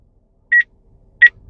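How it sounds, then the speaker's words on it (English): Two short, clean electronic beeps from a Motorola APX8000 two-way radio's DMR mode, spaced about half a second apart, clear and close with near silence around them. "You have your little DMR beep"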